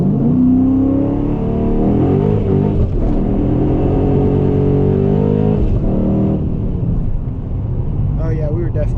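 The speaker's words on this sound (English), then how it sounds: "Oh yeah, we were definitely spinning a lot." A cammed Dodge Challenger R/T accelerates hard with its tires spinning, the engine drone loud and steady throughout, heard from inside the car while people talk over it.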